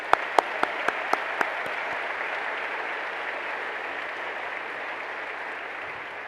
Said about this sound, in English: all of us visiting today really should give the university a round of applause